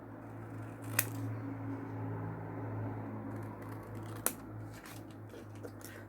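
Scissors cut the tops of paper Christmas tags, giving two sharp, quiet snips over a low background hum, with faint rustling between them.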